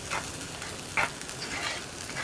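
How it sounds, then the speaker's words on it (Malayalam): Squid cooks in masala in a frying pan as it gets stirred, a soft, steady sizzle with a few brief scraping strokes from the spoon. "ഇനി നമുക്കൊന്ന് ഇളക്കി മിക്സ് ചെയ്യാം."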